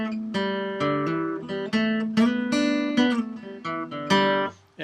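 Guitar strums a funky little rhythm in short, punchy chord stabs with clear sustained tones, played close and alone, the phrase ending abruptly near the finish.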